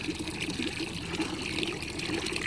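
Water poured and mixed in a container for a bath during winter family camping in snowy Lahaul valley, a steady close splashing and trickling that runs throughout.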